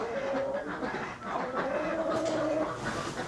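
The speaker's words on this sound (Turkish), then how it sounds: "Burada da tavuklar var." Chickens at an indoor small animal show clucking in a quiet hall, a few soft drawn-out calls rising over low background murmur.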